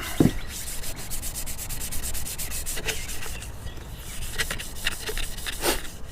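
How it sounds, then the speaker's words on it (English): Steady back-and-forth sanding and scuffing on a shiny metal strut tower brace before priming, a close, continuous abrasive rubbing with a few sharper scrapes, no talking. "That's all you're going to do is just sand it,"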